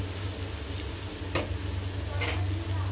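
Onion frying in a pan for chili chicken, a steady close sizzle with a couple of brief scraping stirs over a low hum.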